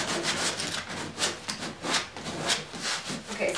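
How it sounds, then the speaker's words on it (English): Fabric painted with Annie Sloan chalk paint being sanded by hand, a run of close, rhythmic scratchy rubbing strokes repeating about twice a second with no speech. "what you do when you sand it"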